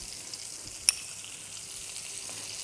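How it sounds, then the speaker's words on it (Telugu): Butter sizzles in a hot pan after searing chicken breast, a steady close hiss with one sharp pop near the start. "దాన్ని ఈ సియర్ అయిన ఈ ప్యాన్లో కొంచెం బటర్ కూడా వేస్తున్నాను."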